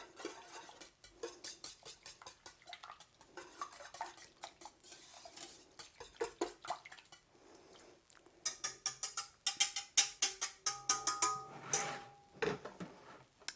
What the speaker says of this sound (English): I'm going to stir it all together.